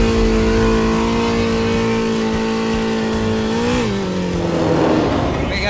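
An off-road car waiting to tackle a slippery, rocky climb holds a loud, steady engine drone, then the revs dip and rise again with a rougher surge near the end.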